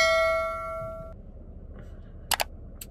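A bright notification bell dings once and rings out clearly for about a second before fading, followed by a few short clicks in a quiet room.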